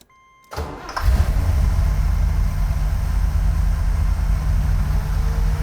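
A 1980 Corvette cranks briefly and fires up, settling into a loud, steady, rumbling idle close by, with no talk over it.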